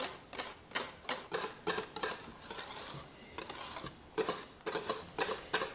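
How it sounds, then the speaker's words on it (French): A whisk gently folds whipped cream into a vanilla bavarois cream, giving a steady run of soft rhythmic clinks and scrapes against the bowl, close and fairly quiet, with brief pauses between strokes and no talking. "on peut y aller comme ça, tranquillement, avec le fouet, sans vraiment fouetter"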